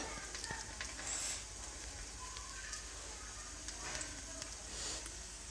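Potato snack patties fry in shallow oil in a pan, a steady soft sizzle and crackle running throughout at moderate level with faint scraping in places.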